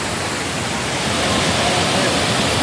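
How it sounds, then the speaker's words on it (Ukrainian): Kravica waterfall in Bosnia and Herzegovina roars steadily as foaming water pours down, a dense, continuous broadband rush filling the whole clip at close range with no voices. "Водоспад. Вода піниться, б'є з гори."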